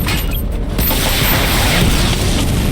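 Missile barrage firing in Batman: Arkham Knight: a loud, steady run of booming, rumbling launches that roll on without a break for a few seconds.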